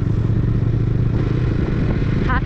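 A motorcycle rides along the road from Mumbai to Mahabaleshwar on a cold, windy day, giving a loud, steady engine drone mixed with close wind roar throughout.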